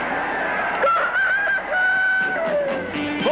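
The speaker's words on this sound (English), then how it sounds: "Brewster, the Gobble Rooster" A rooster crows in a vintage Gobble beer commercial, one long drawn-out call with a falling tail rising again at the end, loud and close with a faint broadcast-style background.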